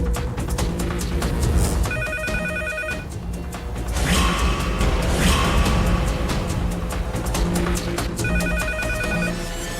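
A telephone rings in repeated electronic bursts under loud, continuous music, with the rings coming in regular groups through the scene.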